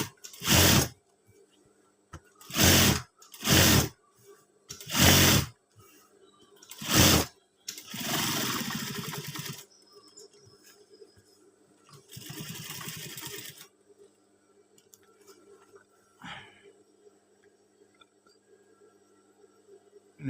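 A sewing machine stitching the edge of a scout uniform collar, heard as short separate bursts of running stitches and then two longer noisy runs with pauses between. Faint and close, with no talk.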